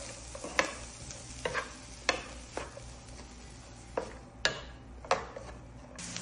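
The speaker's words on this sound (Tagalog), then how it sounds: "Sinalang ko na itong pan at nilagay ko na siya ng oil at i-add ko na itong hiniwa kong onion. Ayan, at mix ko lang siya." Sliced onion sautés in oil in a pan, a soft continuous sizzle broken by several sharp utensil scrapes and taps as it is mixed, fairly quiet and close, with no voices.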